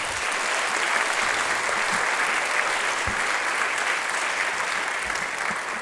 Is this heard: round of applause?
yes